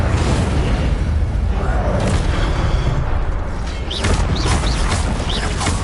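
Incendio fire spells are cast in a Hogwarts Legacy battle, giving loud, dense whooshing bursts of flame over constant combat noise, with a few bright magical zaps near the end.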